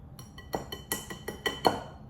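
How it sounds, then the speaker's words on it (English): A whisk beats eggs in a bowl in quick, evenly spaced clinking strokes, close and crisp, with no talking. "I'm gonna whisk some eggs in there"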